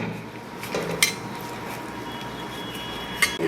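Butter, flour and soda are mixed by hand in a bowl, giving soft, steady squishing and rubbing, with two sharp clinks as something strikes the bowl's rim.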